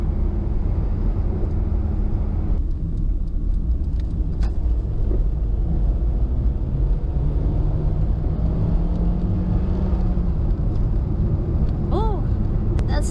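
A 2003 Toyota RAV4 L with a 4-speed automatic accelerating, a steady engine drone under cabin road noise with a rising tone as it pulls, and a voice heard briefly.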